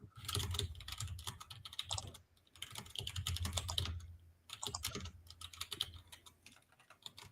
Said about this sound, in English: I've been furiously muted and typing